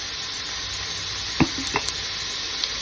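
Food sautéing in a Ninja multi-cooker, a steady soft sizzle with a few brief clinks and scrapes of stirring partway through.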